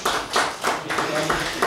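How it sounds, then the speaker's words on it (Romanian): An audience at an autumn writers' evening in Bacău claps for a literary critic and a poet, a short burst of loud, uneven hand claps close by. "Vă rog să-i aplaudați!"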